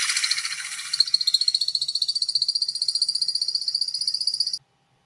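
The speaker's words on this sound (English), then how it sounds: "the sound of the woodcock as it flies straight into the sky makes" An American woodcock climbs straight up in its display flight, giving a rapid, high-pitched twittering that pulses steadily for several seconds before stopping abruptly, faint against a quiet background.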